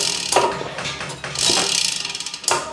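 A bicycle wheel spins freely on a titanium bike in a home workshop, its freehub ratchet giving a fast, close, steady ticking that slows slightly, with a couple of brief louder clicks and no talk.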